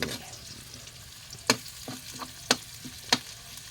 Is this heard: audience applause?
no